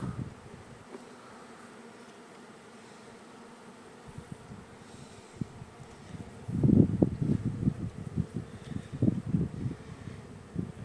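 A low, steady buzz of many Carniolan honeybees fills the background, swelling louder toward the end amid light wind and rustling.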